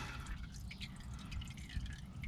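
Motor oil trickling and dripping from a 2006 Ford E150 XL into a drain pan, a faint, steady flow with small splashy drips throughout.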